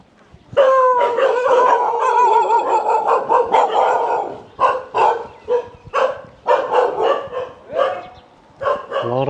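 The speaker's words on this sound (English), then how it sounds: "A lot of them dogs." Several dogs bark repeatedly in a residential neighbourhood of Sukhothai, Thailand, loud and close, with overlapping yips and howl-like tones in a steady chorus that breaks into separate bursts toward the end.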